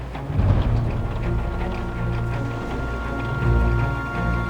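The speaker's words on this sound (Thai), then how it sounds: "ข้างนอกฝนตกหนัก" Dense, steady rain hisses and patters continuously, with a low rumbling undertone throughout.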